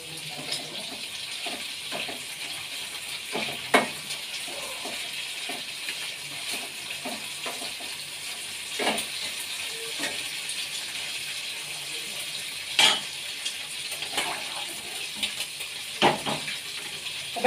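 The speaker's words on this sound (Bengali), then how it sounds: "এখানে চিংড়ি মাছগুলো ভাজা হচ্ছে" Prawns fry in a hot pan, giving a steady soft sizzling hiss with scattered pops and brief crackles that punctuate it irregularly over a long stretch.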